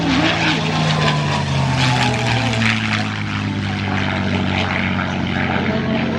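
A Bell P-63 Kingcobra, a mid-engine propeller fighter, flies past at an airshow with a loud, throbbing piston-engine and propeller roar whose pitch slides downward as it passes, sustained over steady background noise.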